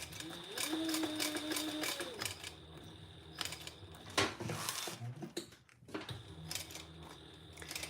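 Home sewing machine stitching with an 18 gauge needle and 45 thread, a steady rapid mechanical whir with rhythmic clatter that pauses briefly and resumes, with faint room sound around it.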